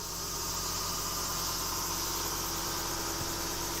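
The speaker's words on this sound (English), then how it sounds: "And so the engine runs pretty normally." A 1991 Toyota Soarer's 1JZ twin-turbo engine idles steadily, a constant close-up drone with a hissy, noisy texture and no change in pace.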